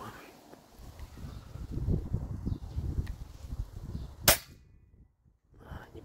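A single sharp air gun shot cracks out at a target outdoors, loud and close, following rustling and handling noise, then near silence.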